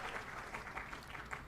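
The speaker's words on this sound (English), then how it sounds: "Yes, please clap for you." Students at an induction program clap in a brief, moderately faint patter of applause.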